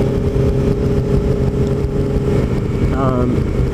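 A motorcycle rides in the center lane of a multi-lane road, a loud steady engine drone mixed with rushing wind noise up close, with a brief tonal whine near the end.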